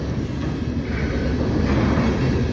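A freight train of coal hopper cars rolls past in very cold weather, a steady low rumble with wind buffeting the microphone and no clear individual clanks.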